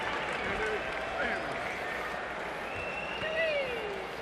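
An arena crowd at a boxing match reacts with loud, continuous noise after the fight, as the decision goes to Isaac Chilemba over Vasily Lepikhin, with a commentator's voice running over it.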